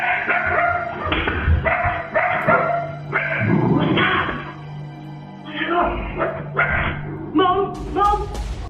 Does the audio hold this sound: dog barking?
yes